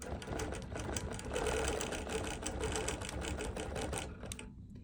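A BERNINA Q24 longarm sewing machine quilting, its needle running in a fast, steady mechanical chatter that holds close and loud throughout before easing off at the very end.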